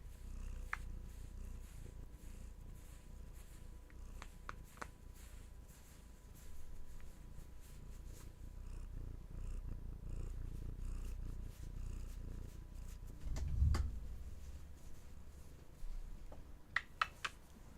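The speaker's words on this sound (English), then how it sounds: "Let Hattie's purrs bring you back." Hattie the cat purrs close by in a steady, low rumbling rhythm that continues throughout, broken only by a few small clicks and rustles.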